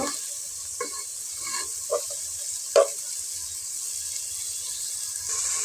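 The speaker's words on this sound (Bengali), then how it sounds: "এখন আমি ভালো করে মশলাগুলো একসাথে মিক্স করে এটাকে কষিয়ে নিব।" Spices with black pepper powder and prawns being sautéed in a pan for a winter bottle gourd and prawn curry: a soft steady sizzle with a few clinks and scrapes of a spoon, close and fairly quiet, no talk.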